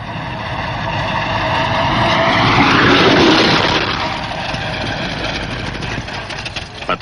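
An early-1900s racing car from the Gordon Bennett race roars past, its engine growl rising to a peak as it nears and then fading as it speeds away, loud and alone.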